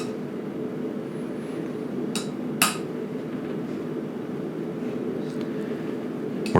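A hammer drives horseshoe nails into a bar shoe on a horse's hoof, with the anvil nearby; two sharp metallic strikes ring out close together over a steady low background hum.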